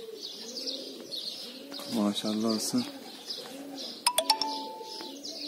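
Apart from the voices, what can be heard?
pigeons cooing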